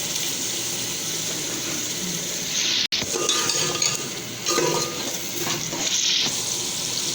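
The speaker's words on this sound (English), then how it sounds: "Now I'm gonna add the ginger garlic paste." Ginger garlic paste sizzles and fries in a hot pan for egg biryani, a steady close crackle with stirring scrapes and a brief clatter partway through.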